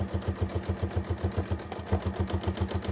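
A sewing machine quilting runs in a fast, even stitching rhythm, close and steady, each needle stroke pulsing regularly without pause and with no voices.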